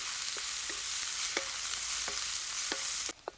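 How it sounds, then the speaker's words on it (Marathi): Onion frying in hot oil with mustard seeds and cumin, a steady close sizzle broken by a series of utensil scrapes and taps against the pan, cutting off sharply just before the end, no talking. "तेल गरम झालंय एक चमचाभर मोहरी टाकून घेऊ एक चमचा जिरे कांदा चांगलं परतून घ्यायचंय"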